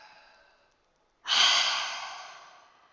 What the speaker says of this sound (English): Exhale from your mouth.